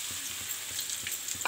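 Potatoes being stirred and tossed in a frying pan for quick potato chips, with an even frying hiss and a few soft spatula scrapes up close.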